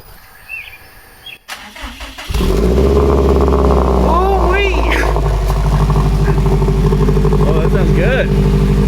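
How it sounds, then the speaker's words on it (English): A turbocharged Honda Civic engine cranks and fires up, then settles into a loud, steady exhaust rumble with a few throttle blips; voices talk briefly before it starts. "start it up, and I guess we'll hear the exhaust"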